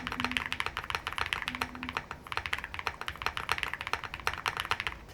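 Rapid typing on an Evo75 mechanical keyboard with its bottom foam removed, a dense stream of crisp, close clacks and taps in a steady, uneven rhythm with no talking over it.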